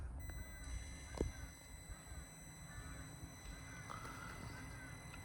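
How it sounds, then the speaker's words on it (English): A TRX-4m RC crawler fitted with an Injora transmission and motor creeps along very slowly, giving off a steady, thin electric whine over a low rumble, with a few faint clicks and knocks. "this is how slow it can go with the Injora transmission and motor"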